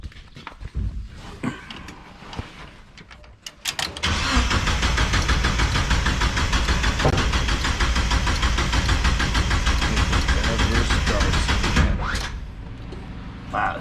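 A turbocharged Mazda Miata engine cranks briefly, then catches and runs roughly and steadily for about eight seconds with its fuel pump relay pulled, before stumbling and dying; close and fairly loud, with no talk.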